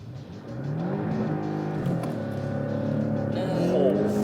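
Porsche 718 Cayman T launching hard in Sport Plus mode, its engine note climbing steadily and loudly through the revs, close and continuous, while people talk over it.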